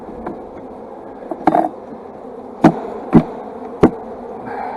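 Honey bees buzz around hive frames as a nest is split into nucs, a steady low hum broken by several sharp knocks and bumps from the frames.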